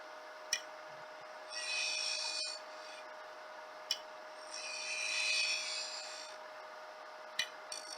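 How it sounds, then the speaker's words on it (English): Spindle gouge side cutting a slight concave shape into the bottom of a wood turning on a lathe, heard as two sustained scraping rasps of a few seconds each over a steady hum, with brief sharp clicks between. "With the side of the spindle gouge, I'm just doing a slight concave shape to the bottom."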